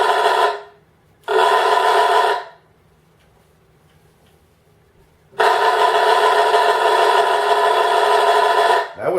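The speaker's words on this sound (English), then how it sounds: "His horn, the brushes are bad in it. Believe it or not, that's a horn." A 1917 Buick's Klaxon horn with bad brushes sounds three times, each a loud, harsh, buzzing blare, two short ones close together and then a long sustained honk after a pause.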